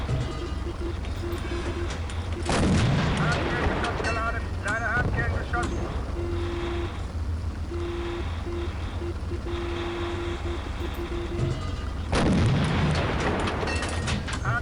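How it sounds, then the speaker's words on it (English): Tank main gun in the Panzer Elite game firing high-velocity KE rounds: two loud, sharp broadband blasts about ten seconds apart, each trailing off into a rumbling decay over steady engine and wind-like game ambience. "So now I'm utilizing this high velocity KE round."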